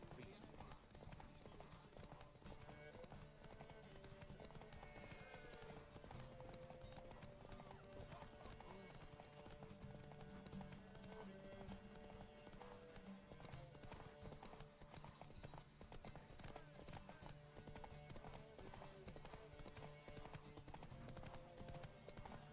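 In the Witcher 3 video game a horse gallops in a race, a steady clip-clop of hooves with an occasional whinny, heard faintly beneath game music and ambient sound.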